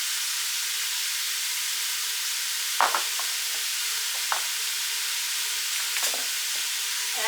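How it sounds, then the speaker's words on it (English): Ground beef and onions sauté in a pan with a steady, even sizzle throughout. A few soft utensil scrapes and taps sound as the mixture is stirred, and no one speaks. "I'm going to saute the meat with the with the onions"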